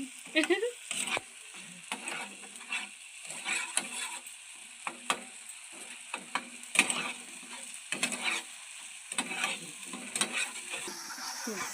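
Bottle gourd leaf paste fries and sizzles in a pan while a spatula stirs and scrapes it in repeated close strokes, with steady frying hiss underneath.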